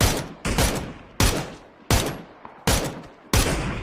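P90 fire in the video game PUBG: six loud, separate automatic bursts at roughly even intervals, each a dense crackling volley that cuts off abruptly into short gaps.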